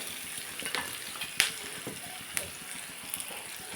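A pan of onions fried until soft, with a heap of leafy greens tipped in for a greens stir-fry, sizzling steadily up close while a utensil scrapes and stirs in short, irregular clatters.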